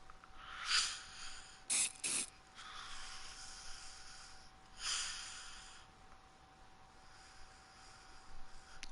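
Bug spray hisses in short bursts in a video game: a breathy spray near the start, two quick sharp puffs, then a longer hiss, each fading back to a faint steady background tone.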